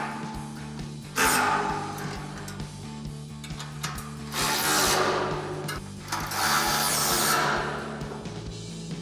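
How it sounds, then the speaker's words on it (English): A 10mm socket and wrench tighten bolts on a 2019-2026 RAM 2500 HD replacement front bumper, giving close, clicking ratchet bursts separated by short pauses. "we'll bring back our 10mm socket and wrench and tighten these down"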